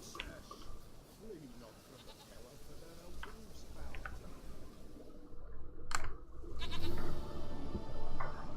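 A goat bleats a few times in the Witcher 3 video game, mixed with game ambience and soft clicking, while a person whispers quietly over it.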